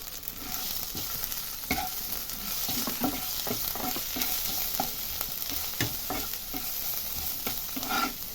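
Grated ginger and chili powder, along with dried red chilies, sizzling in hot oil for a dal tempering, a steady close frying hiss broken by scraping stirs, with no voices.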